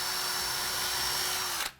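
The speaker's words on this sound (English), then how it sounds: "I'll drill a clearance hole in" A power drill bores a clearance hole into an MDF panel: one steady, high-pitched whine close by that holds for almost two seconds and then cuts off abruptly.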